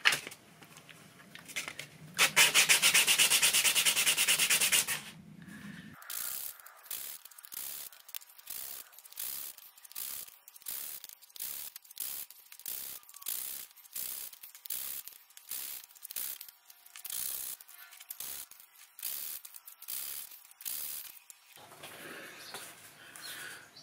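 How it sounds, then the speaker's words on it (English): Accordion pallet facings on a Hohner treble side are hand-sanded with 80 grit sandpaper: a loud burst of scrubbing early on, then a long run of regular short rasping strokes, close and steady with no talk. "To finish preparing the facings prior to putting the new pallet material on, I usually use some 80 grit."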